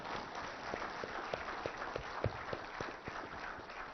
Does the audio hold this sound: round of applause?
yes